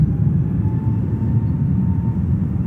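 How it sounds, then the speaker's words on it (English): A LATAM Boeing 787 Dreamliner landing at JFK airport makes a loud, continuous, low engine rumble that stays steady throughout, with no talking. "There comes Latam. 787 Dreamliner coming in."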